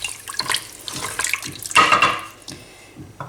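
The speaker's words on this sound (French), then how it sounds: "Alors je mets 75 centilitres d'eau." Water poured into a pressure-cooker pot while making a stuffed artichoke tajine, a brief splashing gush that rises in loudness midway and tapers off, with no talking.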